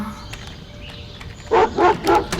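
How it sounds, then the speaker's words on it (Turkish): A wolf dog in the Scary Teacher video game gives three loud, close barks in quick succession, cutting in after a quieter stretch. "Acayip kurt köpeği."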